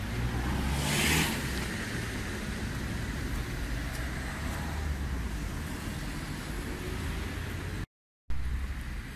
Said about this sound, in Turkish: Şu an yaya geçidinden geçiyoruz.